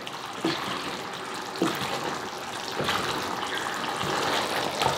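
Steady bubbling and sloshing of pork rib binagoongan simmering in a pot, with a few louder splashy bursts as it's stirred; no talking.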